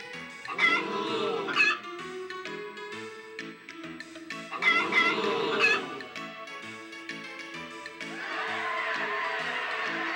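Harvest Moon video game chickens cluck in short bursts, with game music tones running through; two clucking phrases repeat, followed by a steadier chiming passage.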